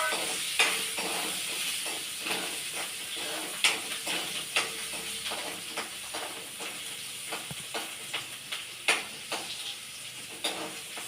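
Onions, curry leaves and green chillies sizzle steadily in hot oil after asafoetida goes in, a continuous close frying hiss broken by repeated sharp crackles and spoon stirring clicks throughout.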